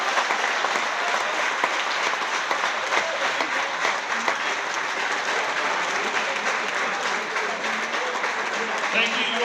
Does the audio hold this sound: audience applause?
yes